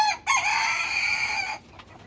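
A rooster crows once, loud and close, a long strained call, followed by brief faint clucking as it trails off.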